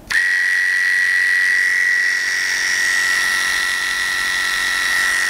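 Electric dog grooming clipper fitted with a 30 blade and snap-on comb switches on and runs, a close, loud, steady high-pitched buzz holding constant without talk.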